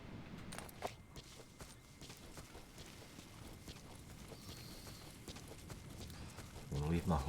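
Horse hooves clopping along a road in Metal Gear Solid V: The Phantom Pain, a steady run of soft, repeated hoofbeats over constant game ambience, with a louder burst of noise at the very end.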